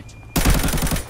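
Automatic gunfire in the video game Arena Breakout, a sudden loud burst of rapid rhythmic shots that starts abruptly and rattles on for under a second.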